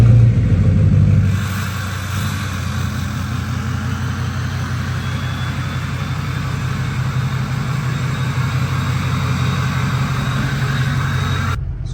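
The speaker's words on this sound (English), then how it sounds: "I'm gonna pull this truck out of the garage really quick." A lowered Ford 6.0 Power Stroke diesel truck pulls out of a garage, its engine a loud, close, steady low rumble and idle that holds evenly throughout with no voices.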